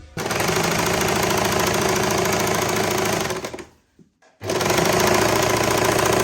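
A sewing machine stitches a palazzo pant seam in a loud, fast, even rattle that runs for several seconds, stops briefly to near silence, then starts up again at full speed.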